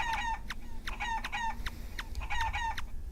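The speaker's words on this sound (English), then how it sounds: "Shoot the evil chicken." Evil chicken enemies in the online shooter game Realm of the Mad God give repeated synthetic clucking, crowing calls in quick bursts, about six clustered calls over three seconds, loud and close with no talking.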